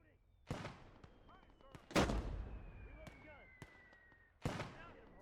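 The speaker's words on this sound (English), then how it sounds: "with the mortars, they have quite a wide range that they'll hit, so it will kind of overshoot shots." Mortar and artillery fire in the Gates of Hell Ostfront WWII strategy game, several heavy booming blasts with rumbling tails and scattered smaller shots, some distant, while a voice talks faintly underneath.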